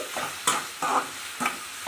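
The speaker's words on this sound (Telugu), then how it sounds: "మామిడికాయ పచ్చివాసన అంతా పోయి అందులో వాటర్ శాతం అంతా డ్రై అయిపోయినంత వరకు వేయించుకోవాలి" Grated raw mango stir-fries in a hot tempering, close and loud, with three distinct scraping stirs of a spoon against the pan over a continuous sizzle.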